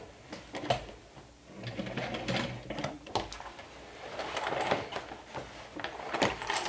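A sewing machine stitches fabric for a beginner-friendly bag or pouch pattern, a steady close mechanical whir and rattle running in bursts with brief pauses, no voices over it.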